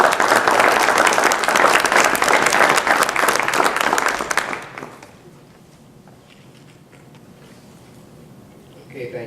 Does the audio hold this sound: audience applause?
yes